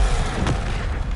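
A Bombarda spell explosion in Hogwarts Legacy gives a short, dull boom inside a dense, steady wash of noise, with one brief burst near the middle.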